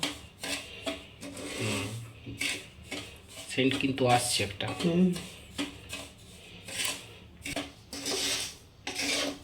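A spoon scrapes and rasps steadily against a pan as semolina is stirred and dry-fried for a savory pilaf, with a person talking over the scraping.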